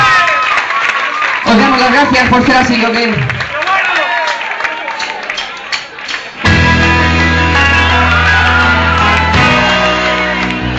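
A concert crowd at a show in Valencia applauds, cheers and whoops for a guest artist while someone speaks over them, then loud band music kicks in.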